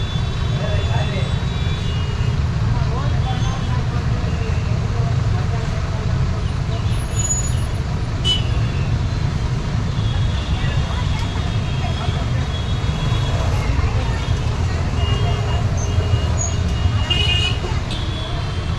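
Heavy road traffic idling at a congested junction, with buses, two-wheelers and horns: a steady loud low engine rumble fills the scene throughout, with occasional faint higher toots and hiss over it.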